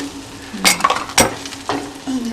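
Mint sizzling in hot butter in a pan, with three sharp bursts of crackling over a softer hiss, close and without talk.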